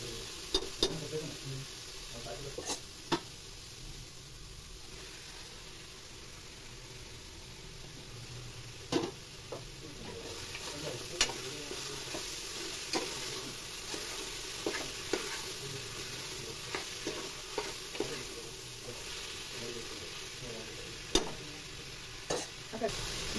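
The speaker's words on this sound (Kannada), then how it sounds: "ಕಟ್ ಮಾಡಿ ಇಟ್ಕೊಂಡಿರುವಂಥ ಟೊಮೆಟೊನೂ ಕೂಡ ಹಾಕ್ಕೊಂಡು ಅದನ್ನು ಕೂಡ 1 3 ನಿಮಿಷ ನಾನು ಫ್ರೈ ಮಾಡ್ಕೊತಾ ಇದ್ದೀನಿ" Chopped tomatoes frying with garlic and green chili paste in a pan give a steady close sizzle, broken by scattered sharp scrapes and taps of a spoon stirring.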